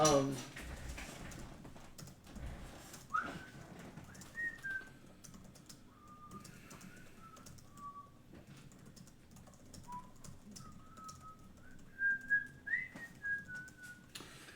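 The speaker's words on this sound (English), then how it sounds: "The familiar whistling and sound of footsteps clicking on pavement." Someone whistles a wandering melody while sharp clicking steps tap along underneath, fairly quiet and close.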